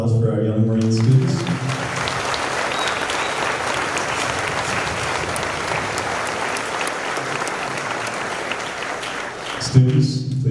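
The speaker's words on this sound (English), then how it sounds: "A round of applause for our Young Marine students." A crowd at a middle school 8th grade promotion ceremony applauds Young Marine students, steady sustained clapping filling the hall for about nine seconds, with a brief voice before and after.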